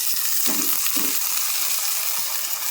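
Onions and tomatoes frying in a pan make a continuous soft sizzle, with a couple of brief stirring sounds early on and no talking.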